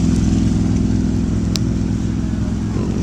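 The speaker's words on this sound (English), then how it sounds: "motorcycle" A motorcycle rumbles steadily somewhere outside, fairly faint and low, running throughout with no clear peak.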